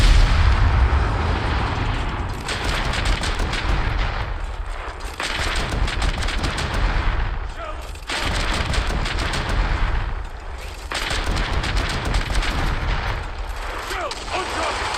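Battleship main guns firing in a naval combat video game, heavy booming salvos arriving in several long waves with rumbling mechanical noise between them, loud and dense throughout.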